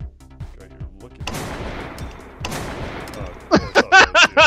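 Gunshots in the video game Screencheat: scattered sharp shots, two bursts of noisy fire, then a run of five loud blasts near the end. Faint background sounds run between the shots.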